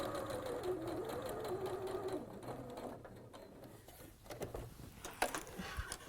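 A sewing machine quilting around the boxes of a patchwork project in grey thread. It runs with a fast, even mechanical whir and stitching rattle, then slows into short bursts and stops.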